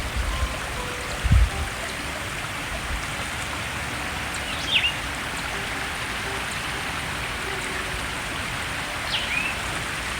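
A trail-side stream on the Appalachian Trail flows steadily at a water refill stop, a continuous mid-level wash of running water with a couple of faint bird chirps and brief knocks over it.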